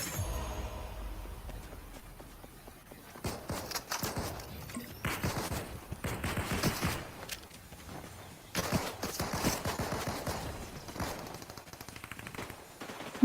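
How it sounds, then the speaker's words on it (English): Gunfire rings out in a Fortnite match as repeated rapid bursts and scattered single shots at mid distance. The crackling volleys come and go over several seconds and are heard on their own. "Who the hell shooting at me?"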